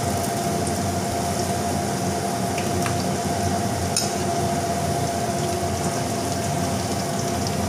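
Chopped cabbage, capsicum, beans, peas and carrot sauté in a hot pan, giving a loud, continuous sizzling hiss that holds steady throughout.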